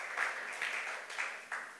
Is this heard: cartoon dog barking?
no